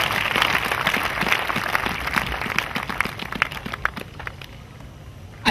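An audience at a religious crusade in Bafoussam claps together, a dense, steady patter of many hands that thins out toward the end.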